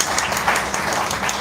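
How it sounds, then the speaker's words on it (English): An audience applauds at the launch event for a national mental health helpline, with steady dense clapping filling the whole short stretch at moderate loudness and no talk over it. "Please join me for a round of applause to congratulate AXA and Manas Foundation for this initiative."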